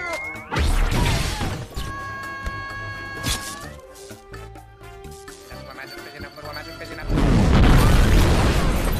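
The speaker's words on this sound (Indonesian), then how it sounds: "Terjadilah perkelahian di toko tersebut." A film fight in a shop, where Athena battles two robots, brings heavy crashing impacts and booming blows at the start and again near the end, with dramatic music in between.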